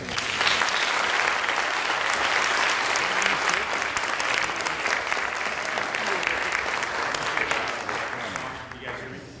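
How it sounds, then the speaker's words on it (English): Audience gives a panel discussion about Tower Hill a steady round of applause, a dense even clapping that holds for several seconds before tapering off near the end. "give the panel just one more round of applause"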